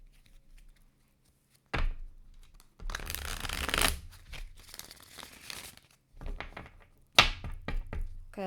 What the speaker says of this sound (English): me shuffle one more time